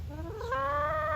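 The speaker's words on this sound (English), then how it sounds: "This chicken talks back." A chicken on a farm gives one short, rising, drawn-out call, close and clear over faint low background noise.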